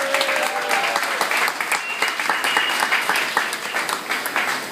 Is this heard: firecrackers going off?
no